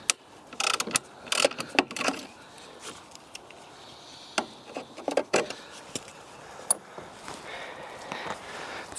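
3/8-inch drive ratchet working on a corroded spark plug in a Ford C-MAX engine bay, with irregular clicks and metallic clanks of tools, close and uneven, with no talking.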